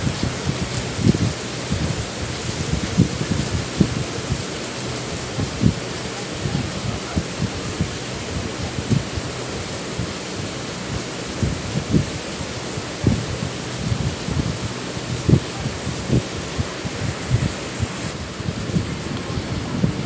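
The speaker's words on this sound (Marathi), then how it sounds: "हवा किती पाऊस पडतो आहे, तो पावळ्याने पाणी गळतं एकदम." Heavy monsoon rain in coastal Konkan pours steadily outside a house, a dense continuous hiss with irregular low dripping thuds of water running off the eaves, close and unbroken for the whole stretch.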